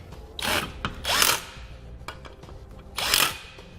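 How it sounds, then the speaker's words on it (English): A 7/32 Allen key turns black tapered screws into an airbag mount on a 2016 Ford F-350, giving three short grinding bursts of metal-on-metal twisting with brief pauses, close and moderately loud. "We'll then tighten those down using a 7/32 Allen key."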